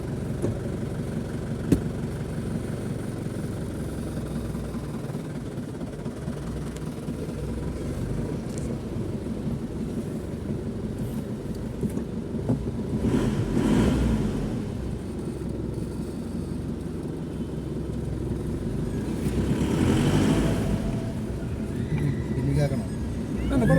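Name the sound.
Chevrolet Tavera engine on test drive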